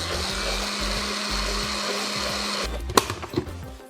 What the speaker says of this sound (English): I'm gonna blend my compote